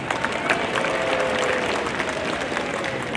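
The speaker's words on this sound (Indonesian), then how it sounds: "Mohon tepuk tangan ini." Applause from the audience at a human rights festival opening ceremony in Singkawang, a dense, steady patter of many hands clapping at moderate distance with crowd murmur for a few seconds.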